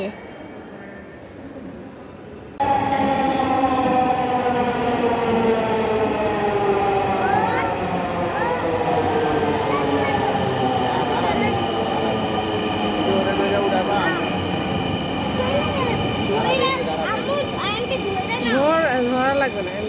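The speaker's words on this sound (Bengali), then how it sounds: "এই যে হুইসেল বাজালো এক্ষুনি ট্রেন আসছে" A metro train pulls into an elevated station after a whistle, arriving with a loud, steady rumble and rising, wavering wheel squeals that last to the end; a quiet platform ambience comes first.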